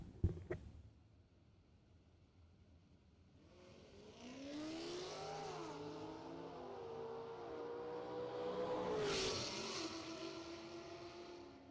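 Drag race cars, including a 2023 Chevrolet Camaro, launch down the strip in a bracket race round. Engines swell from about four seconds into a loud, rising roar that peaks near nine seconds and then eases off, with no talk.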